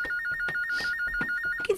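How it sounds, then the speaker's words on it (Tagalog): Electronic phone ringtone warbling rapidly between two tones, fairly quiet, with brief thumps and background noise behind it. "Ang telepono din sa sala."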